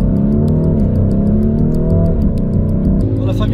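A Lamborghini Urus and a Mercedes A45 AMG rev loudly at the start of a race between brothers, with a dense, steady engine drone and shifting harmonic tones up close, and someone talking over it.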